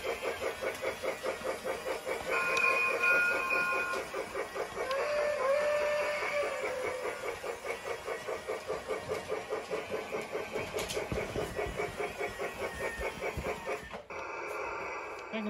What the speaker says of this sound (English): We got a Polar Express.